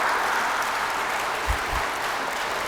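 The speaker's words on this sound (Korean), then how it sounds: "인자 박수 치노" A church lecture audience gives a steady, even round of applause at moderate distance, with a couple of brief low thumps near the middle.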